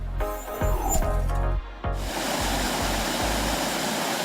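Water rushes and splashes as it is pumped into the Hydro Impact Basin, a 115-foot-long, 20-foot-deep test pool, a steady dense roar that takes over after a few opening knocks.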